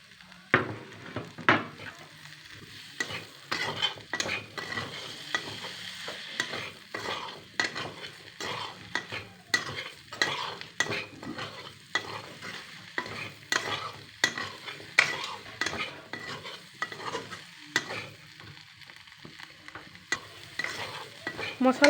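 Spices, ginger, garlic and mustard stirred and fried in a pan for an Assamese drumstick dish, with steady scraping strokes of a spoon against the metal over a continuous close sizzle.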